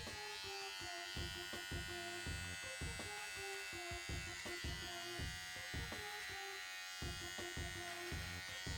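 An electric beard trimmer buzzes along a beard neckline in a barber-style trim, its close, steady whine broken into short repeated passes and brief pauses as it is lifted and set back against the skin.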